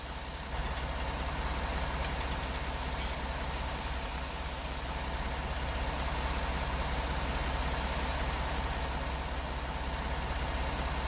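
A tractor in Farming Simulator 19 idles beside a grain silo, its engine keeping a steady low rumble with an even, unbroken hum. It stays close and constant throughout.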